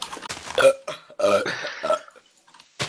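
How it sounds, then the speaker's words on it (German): A man burps during a Minecraft let's play recording, drawn-out and voiced, with a few croaky pulses close to the mic, followed by a short pause and another burst of sound. "Oh, der rülpst in der Aufnahme, wie unprofessionell."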